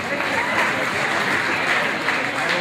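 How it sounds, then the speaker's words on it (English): A crowd at a ballroom dance competition's prize presentation applauds loudly and continuously, dense clapping filling the whole stretch. "They can have a round of applause, ladies and gentlemen"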